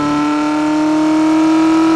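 A 1969 McLaren M9A racing car drives around the historic Silverstone circuit, its engine a loud, close, steady sustained drone with strong tonal harmonics throughout.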